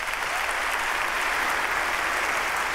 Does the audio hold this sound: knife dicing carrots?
no